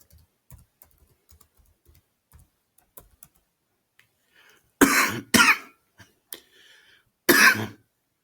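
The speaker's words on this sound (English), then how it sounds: "I developed a nasty cough" Several harsh coughs and throat clearing from a person with a nasty cough, two close together then one more a moment later, loud and near, set against faint keyboard typing clicks.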